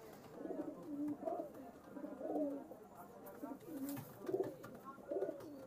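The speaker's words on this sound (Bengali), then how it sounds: "দুইটা কবুতর ছেড়ে দেখাচ্ছি।" Giribaz pigeons, a Pakistani breed, coo repeatedly after being let out, soft rhythmic throaty calls rising and falling close by against a quiet background.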